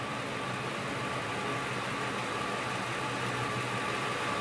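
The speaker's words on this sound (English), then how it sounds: "listening in to the injector pintle as it was commanded" A fuel injector pintle, picked up through an electronic stethoscope probe at the base of the injector, comes through as a steady, dense mechanical drone like an idling engine, constant and even throughout with no voices.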